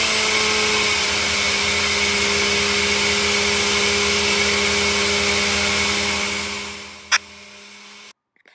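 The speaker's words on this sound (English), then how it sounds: "Then I'm just going to blend a little bit more." A kitchen blender mixing a protein smoothie, a steady loud motor whir running continuously for about six seconds before winding down, followed by a single short knock and then silence.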